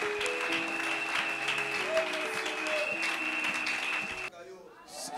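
A church congregation bursts into sustained applause and cheering for Jesus during a sermon, a dense steady wash of clapping under a lingering tone, cutting off abruptly near the end.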